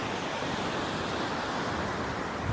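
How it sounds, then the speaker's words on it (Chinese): Sea waves wash onto a long, wide sandy beach at Hailing Island, Guangdong, as a constant, close, roaring surf wash with no break, partly blurred by wind. "这边的海浪还挺大的，一层一层的海浪。"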